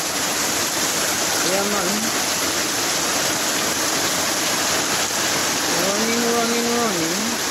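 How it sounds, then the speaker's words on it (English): Floodwater runs off a road and pours down into a gully, a loud, constant rushing roar that fills the scene, with brief speech over it. "So everything washed from the road down into the gully. See, they are running like a river."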